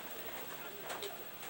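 Pigeon cooing at low volume against a faint, steady background, a few soft coos standing out near the end.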